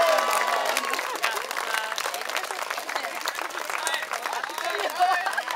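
A crowd at a historical reenactment event claps and cheers steadily, with dense applause, scattered shouts and voices mixed in throughout.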